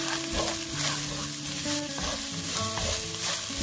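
Spices being stirred into lentils sizzling in a pan, with steady frying crackle and the scrape and shuffle of stirring close up, no talking.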